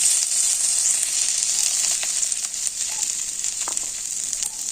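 Ginger and vegetables fry in a pan for sago pulao, giving a steady, loud sizzle across the whole stretch with faint stirring scrapes and no talking.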